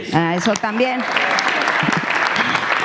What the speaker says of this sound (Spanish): Gracias por aplaudirnos, paleros.